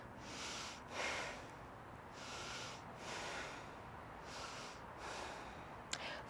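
Slow, rhythmic yoga breaths, drawn audibly through the nose in several even cycles during a held pose, soft and close with no talking.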